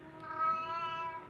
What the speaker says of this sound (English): You guys are gonna hear my old cat in the background meowing.